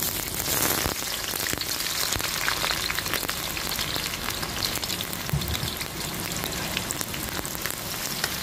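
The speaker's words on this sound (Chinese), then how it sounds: "倒入这个皮牙子进行翻炒。" Onions are stir-fried in hot oil in an iron wok for a small-pot pilaf, giving a loud, continuous close-up sizzle with scattered crackles and pops. No voices are heard.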